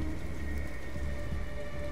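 Steady, dense rain falls during a thunderstorm in the game Detroit: Become Human, a continuous close hiss with a low rumble beneath.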